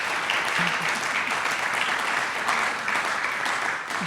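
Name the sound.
audience applause for the award honoree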